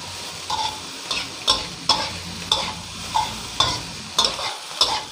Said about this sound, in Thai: ผัดข้าวไปให้พอข้าวเม็ดร่วนเม็ดดีบนะครับ